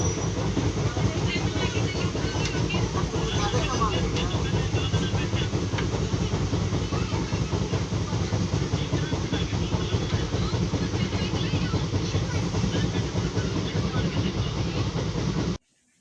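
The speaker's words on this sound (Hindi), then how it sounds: "यहाँ पे जो ट्रेन यहाँ पे खड़ी थी वो जा चुकी है।" At a railway station, a train rumbles steadily with a continuous loud roar, rattle and hiss that holds throughout before cutting off abruptly at the end.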